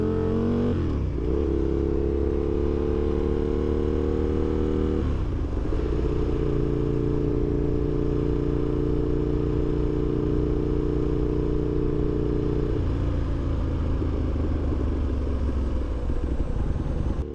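An Aprilia RSV1000 sportbike engine on the road, loud and close, with a sharp rev change near the start, a gear shift around five seconds, then a sustained steady drone with another shift toward the end.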